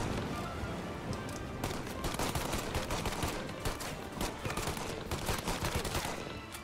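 Gunfire rattles in Mafia Definitive Edition during a Border Patrol ambush: irregular bursts of shots crackle at moderate distance over a dense, hissing background, steady throughout.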